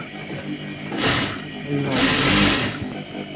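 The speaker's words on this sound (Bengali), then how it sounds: "এবারে এর উপরে আবার একটা কাঠি সেলাই দিয়ে নেব" A sewing machine stitches a petticoat in two short bursts of rapid mechanical whirring, close and fairly loud, with a low hum between runs.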